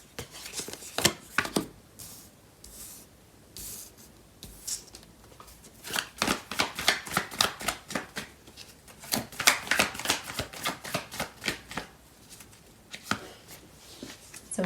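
Tarot cards are shuffled close by in uneven bursts of crisp riffling and flapping, at first sparse, then a quick run of rapid snaps, then fading back to occasional shuffles, with no talking.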